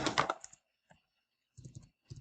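A few soft clusters of computer keyboard key clicks come in short bursts with gaps between them, quiet and close.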